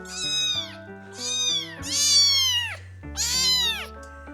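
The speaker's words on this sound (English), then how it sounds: "And not just any cat, but a 6-week-old little kitten." A six-week-old kitten meows repeatedly and loudly up close, four long rising-and-falling cries in a steady sequence with no talking.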